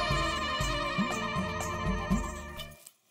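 A phone ringtone plays as a call is placed, a bright repeating melodic tone pulsing in short regular bursts, close and clear, before cutting off abruptly into silence.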